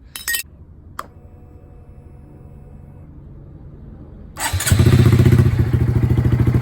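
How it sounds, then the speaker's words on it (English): Motorcycle fitted with a new, loud aftermarket exhaust from eBay, heard with a couple of clicks and a soft idle before the engine starts and roars into a loud, close, throbbing idle. "Alright, so I guess this is the loud exhaust."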